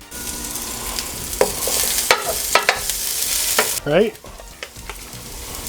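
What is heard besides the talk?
half an onion sweating in a pan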